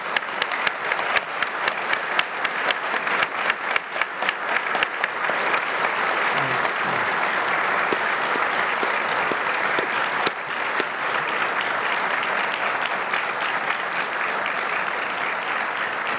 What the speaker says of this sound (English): give me a round of applause for all the people that worked on Command & Conquer